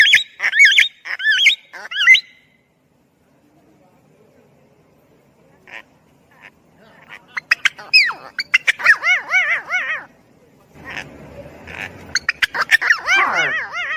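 Bursts of harsh, warbling parrot calls, loud and close, come in a cluster early on, fall silent for several seconds, then return as rapid repeated squawks and chattering phrases toward the end.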